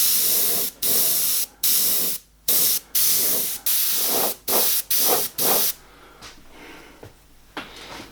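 Airbrush misting paint onto a moonlit ship scene beneath a white line, heard as about a dozen close, sharp hissing bursts separated by brief silences, the later ones softer.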